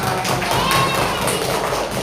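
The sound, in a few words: class applauding together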